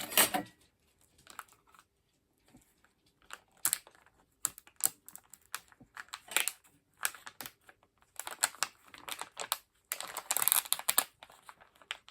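A cutting tip on a We R Fuse tool scores along a ruler in a run of close, crisp scratchy strokes with short pauses between them, and no one speaks.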